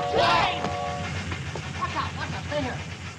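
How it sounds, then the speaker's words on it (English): A train sound effect in a children's show, a whistle-like tone that gives way to rumbling, clattering rail noise, heard mixed with voices. "That wasn't a train, it's a sound effect"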